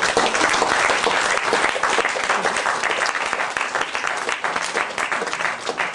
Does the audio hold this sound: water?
no